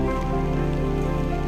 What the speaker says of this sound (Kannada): ಮಳೆ ಬರ್ತಿದೆ ರೀ.